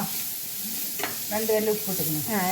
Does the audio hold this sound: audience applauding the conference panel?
no